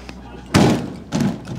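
A side door on a car garage is tried and then opened: two heavy, close thumps with a rattling rumble, under a moment of quiet.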